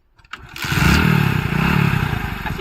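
A motorcycle engine starts with a brief clatter and then roars up to a loud, close, steady idle and rev, dominating the short stretch without any talking.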